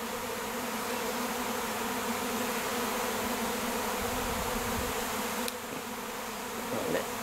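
A dense queenless swarm of honeybees buzzes all around, a constant layered drone with a few louder passes near the end; no talking.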